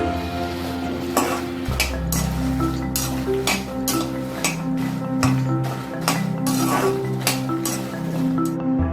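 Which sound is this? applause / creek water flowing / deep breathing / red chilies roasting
red chilies roasting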